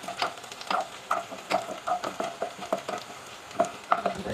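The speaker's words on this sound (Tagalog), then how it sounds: "Antay lang natin mag-brown yung bawang mga idol." Garlic fries in a pan for a home-cooked pork adobo, a light sizzle punctuated by repeated scraping and clinking strokes of a spatula stirring in an uneven rhythm, close and moderately loud, with no speech.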